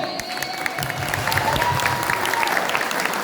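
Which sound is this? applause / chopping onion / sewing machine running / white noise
applause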